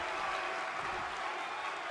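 Crowd applause in the WWE 2K23 wrestling video game, a steady broad wash of clapping and crowd noise at moderate level, with no clear voices.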